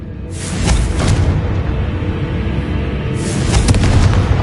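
The Confringo fire-blast spell in Hogwarts Legacy explodes, giving two loud, broad booming bursts a few seconds apart over a continuous rumbling roar.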